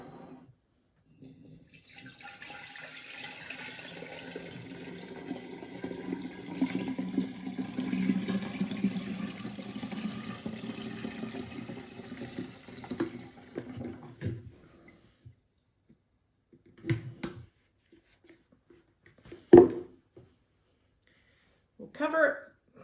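Apple juice poured into a 5 litre glass jar, a steady liquid stream running for roughly twelve seconds and then stopping, followed by a few sharp knocks and clinks as the jar is handled.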